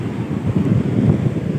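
Waves washing onto a sandy beach strewn with seashells, mixed with steady wind buffeting the microphone, a continuous low rushing roar with gentle swells and no voices.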